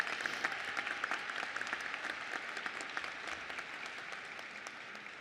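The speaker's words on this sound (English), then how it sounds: "Please join me in giving them a round of applause." An audience at a fall college commencement ceremony claps at length, a dense, steady patter of many hands that carries on evenly without cheering or speech.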